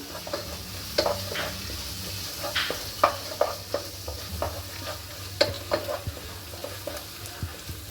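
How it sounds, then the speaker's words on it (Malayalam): Curry leaves are stirred in a frying pan for a chicken dish: irregular scraping clinks of a spoon against the pan over a faint, steady sizzle of hot oil, with no talking. "ഇനി അതിലേക്ക് കറിവേപ്പില കുറച്ചിടുന്നുണ്ട്. ഇനി ഒന്ന് ഇളക്കി കൊടുക്കണം."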